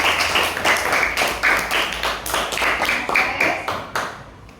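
Classroom clapping for a student in an elementary science lesson on the water cycle, a group of children clapping in a steady, rhythmic pattern of repeated bursts, close and lively.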